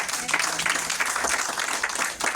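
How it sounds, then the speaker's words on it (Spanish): Church congregation bursting into applause during a Spanish-language sermon, a dense, steady patter of many hands clapping together for a couple of seconds. "Dale un aplauso al Señor por eso."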